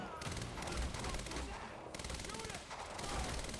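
Rapid gunfire bursts and automatic weapon fire from the video game Quantum Break crackle in overlapping volleys through a short firefight, fairly loud and dense with game sound effects, and a voice briefly calls out underneath.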